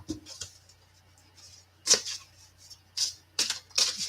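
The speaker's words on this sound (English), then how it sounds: "Okay, I think that's shuffled enough." Deck of cards being shuffled by hand, a few quick riffling and snapping bursts separated by quiet gaps, close and fairly soft.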